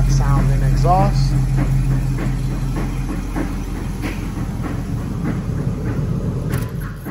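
A 1987 Chevy Monte Carlo SS with an LS-swapped V8 and stock exhaust runs nearby, a steady low rumble and drone throughout, with a person speaking briefly over it near the start.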